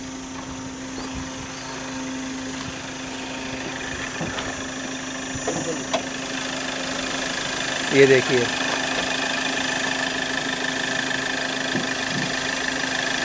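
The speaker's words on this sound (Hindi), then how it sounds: "और ये इसका इंजन चालू है, देखना कितनी कम आवाज़ आती है।" A 2015 Hyundai Verna SX(O) CRDi diesel engine idles with a low, even hum and faint mechanical clatter, while someone talks briefly over it.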